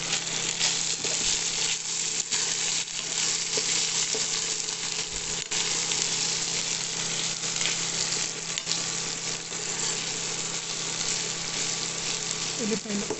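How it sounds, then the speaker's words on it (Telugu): Onions fry in hot oil in a pan for a beetroot curry, a steady loud sizzle that runs unbroken throughout, with occasional scrapes and clicks of a spoon stirring. "ఉల్లిపాయలు వేసి ఒకసారి కలపండి"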